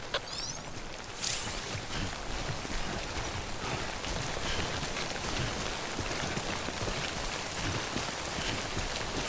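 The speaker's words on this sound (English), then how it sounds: "Sam, remember that prolonged exposure to timefall damages cargo containers. Don't stay out in the rain any longer than you have to." Steady timefall rain in the video game Death Stranding, a continuous dense hiss of drops pattering on surfaces at an even level throughout, with no voices.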